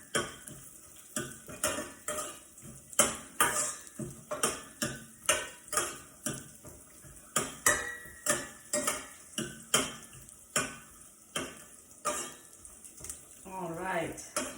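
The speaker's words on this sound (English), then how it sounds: "because they are raw, we want to toast them for at least a good 30 seconds so they start changing color" Raw cashews toasting in a pan over medium heat, a spoon stirring them in rhythmic scrapes and taps about once a second under a soft sizzle.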